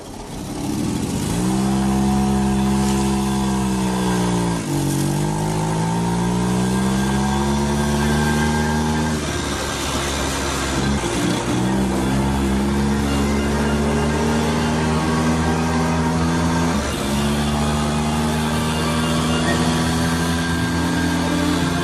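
Large-displacement motorcycle engine running, loud and close, revving up and down in several long sweeps with brief dips between, no talk over it.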